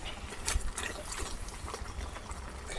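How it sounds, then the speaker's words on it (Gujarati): Water splashes and hisses into a hot pan of spiced eggplant and potato, a steady close rushing sound lasting a few seconds. "એમાં થોડું પાણી એડ કરીએ કે જેથી આપણો સૂકો મસાલો બળી ના જાય"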